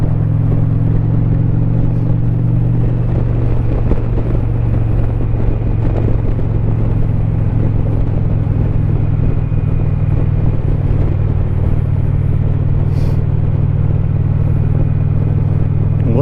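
Motorcycle cruising on a road on a Saturday afternoon ride in Savannah, a steady low engine rumble and road noise holding throughout without rider talk.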